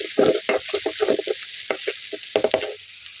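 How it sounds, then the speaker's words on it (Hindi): Onions fry in a hot pan for a mushroom masala, giving a close, steady sizzle broken by bursts of stirring and scraping, with no voices. "प्याज को अच्छी तरह से फ्राई करेंगे"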